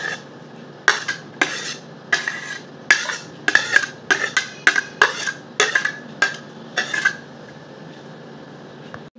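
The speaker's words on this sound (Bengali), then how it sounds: "গ্রেট করা আমগুলো একটা পাত্রে ঢেলে নেব।" Grated mango being transferred from one vessel into a bowl, with about a dozen sharp metallic clinks and scrapes of a utensil against the container, evenly spaced and close, with no talking.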